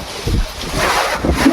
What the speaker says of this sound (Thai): ลมมาอีกแล้วพี่น้องเอ้ยโอ้โห